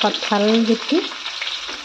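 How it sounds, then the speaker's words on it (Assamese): Fish fries in a pan with a close, continuous crackling sizzle, broken briefly by a short tonal squeak near the start. "এফালে মাছ ভাজি আছোঁ"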